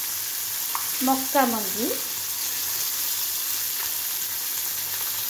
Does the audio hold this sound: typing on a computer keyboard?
no